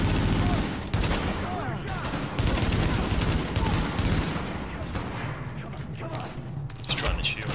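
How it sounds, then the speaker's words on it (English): Gunfire in Tom Clancy's The Division video game: rapid bursts of automatic shots and heavy fusillades, loud and close, with brief gaps and a voice talking over parts of it. "Just trying to shoot."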